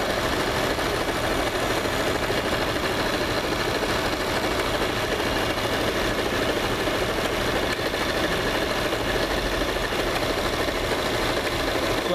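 A Janome CT2480LX sewing machine runs continuously with a steady mechanical whir and rapid rhythmic chatter, loud and close, with no voices.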